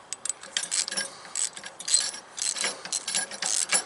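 A hand ratchet turns a grade 8 bolt while a quick hitch is installed, producing rapid bursts of metallic clicking in uneven strokes, close and fairly loud.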